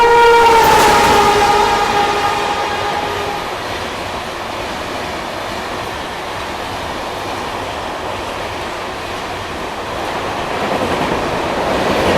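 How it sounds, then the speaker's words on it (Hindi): The Jabalpur Somnath Express sounds a sustained, loud horn as it passes, followed by a long, roaring rush of coaches rolling by close at hand. "अभी टाइम जबलपुर सोमनाथ एक्सप्रेस का भी है, तो हो सकता है वो भी ओवरटेक कर रही हो"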